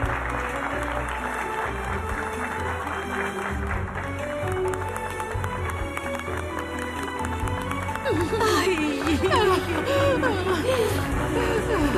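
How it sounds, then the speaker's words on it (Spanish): Guests at a wedding ceremony clap continuously after the couple is pronounced married, a dense steady applause from a nearby crowd, with voices rising over it toward the end. "Podemos aplaudir otra vez."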